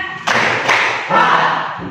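A group claps in rhythm during a classroom guidance session at a vocational school, with three loud, evenly spaced claps ringing out over a faint background murmur.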